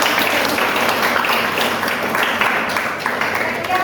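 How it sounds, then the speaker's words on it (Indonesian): Audience applause for presenters at a university teaching session, dense sustained clapping filling the room throughout, loud and steady with a slight taper near the end. "Kita berikan aplaus dulu untuk"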